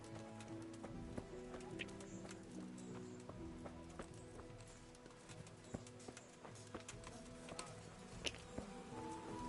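Hooves of a horse in the video game Kingdom Come: Deliverance clop steadily at a walking pace, fairly faint, over a layered background of music-like tones and scattered clicks.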